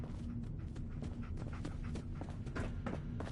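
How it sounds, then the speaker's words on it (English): Heavy, plodding footsteps from a video game, a steady run of dull thuds heard through a door over a low droning background hum. "But I hear big fat footsteps on the other side."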